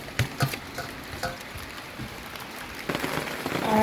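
Steady rain patters on surfaces outdoors while a pot of Jamaican tripe and bean stew sizzles and is stirred, a continuous wet hiss with occasional louder clatters and no talk.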